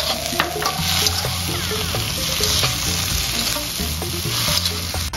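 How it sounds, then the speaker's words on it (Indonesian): Long beans stir-fried with a little added water in a pan, giving a steady, close sizzle with scraping and clinking from a spatula stirring throughout. "sekarang kita oseng kacang panjang. Supaya empuk, kita kasih air dikit ya"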